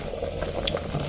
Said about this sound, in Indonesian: Sudah mendidih